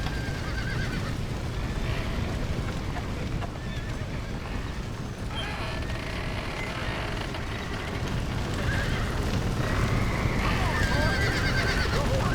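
Horses in the video game Red Dead Redemption whinny and neigh repeatedly amid clip-clopping hooves, with voices and background commotion mixed in.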